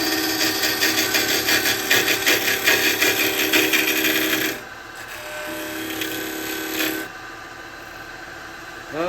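A square carbide chisel cutting a tenon on a wooden blank spinning on a lathe: a loud, steady scraping whir that stops abruptly, leaving the lathe's quieter hum before cutting briefly resumes.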